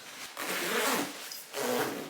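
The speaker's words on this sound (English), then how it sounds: "So it zips like all the way up so you can tuck your face into." Moncler coat zipper pulled in two quick strokes, close and fairly quiet, a short rasping zip followed by a second one after a brief pause.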